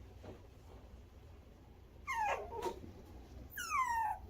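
A tiny, sick puppy whimpers and yelps at home, two sharp high cries rising out of a quiet room, faint and close, with soft background hiss and no talking.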